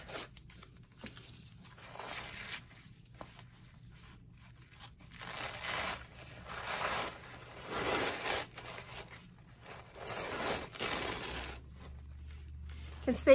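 Paper being pulled apart and torn while making a Christmas junk journal, with repeated crinkling, tearing bursts of moderate loudness spread through the clip; a voice talks at times.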